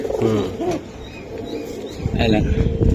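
Giribaz highflyer pigeons coo in soft, repeated low phrases close by, partly under someone talking.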